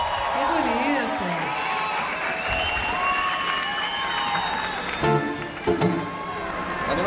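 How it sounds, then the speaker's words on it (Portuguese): A concert crowd at Rock in Rio 2013 applauds and cheers for a singer, a continuous wash of clapping and whoops under music and a voice on the PA. "Um salva de palmas"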